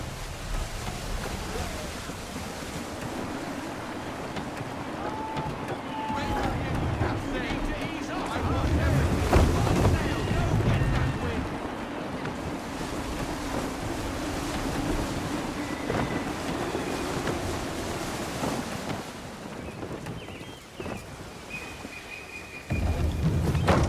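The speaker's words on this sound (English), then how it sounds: "Wind looks to be shifting. Stay alert, Connor. Gusty winds can be difficult to manage." Gusty wind blows over open sea as a sailing ship rolls through the waves in Assassin's Creed III, a continuous roaring rush with swells of louder gusts and water wash beneath, while voices speak over it.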